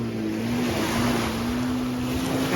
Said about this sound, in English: Guy going out with a little banana boat.